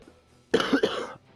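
A single short, harsh cough from a sick person, close to the microphone, against a quiet background.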